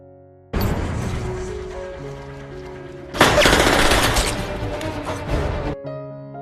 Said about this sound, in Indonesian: dua agen FBI, John Crawford dan Tom Lone, menyergap baku tembak antara Yakuza dan Triad Tiongkok, dua kelompok kriminal terkuat.